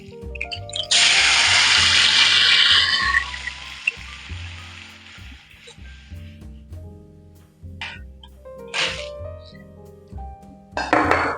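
Water poured into a hot frying pan with garlic, a loud hissing sizzle that bursts in and holds for a couple of seconds, then fades to a lower bubbling, with a few clinks and a short rustle near the end.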